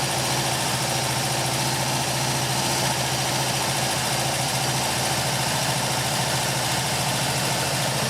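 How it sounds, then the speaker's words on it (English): Porsche 914 engine idling, a steady close rumble with a constant hum, slowly settling down with little change in level, no voices. "it takes a while to settle back down into idle"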